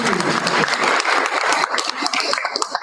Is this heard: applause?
yes